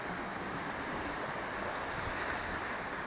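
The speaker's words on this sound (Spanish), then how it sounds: "Y hay un poquito de mar de fondo." Sea waves with a gentle swell wash steadily against the coast under a strong westerly wind, a continuous broad roar with no talk, heard at dusk while squid fishing.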